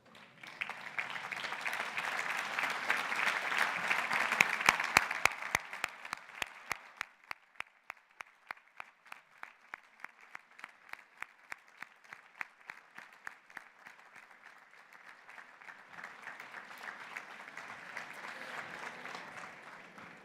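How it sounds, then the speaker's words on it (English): Audience at a graduation closing ceremony in a large congress hall applauds parents, family and sponsors, a broad wash of clapping that swells early, settles into a steadier patter and rises again toward the end. "show your gratitude towards your parents, family, and sponsors by giving them a big round of applause"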